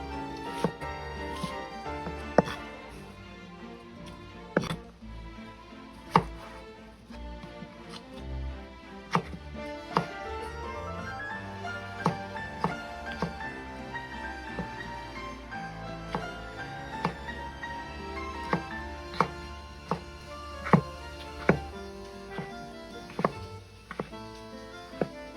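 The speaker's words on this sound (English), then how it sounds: "Now I just had this browning while I was chopping my veggies" A knife chops vegetables for a breakfast hash on a cutting board in a home kitchen, crisp irregular taps and bursts of quick cuts over soft background music, with no talking.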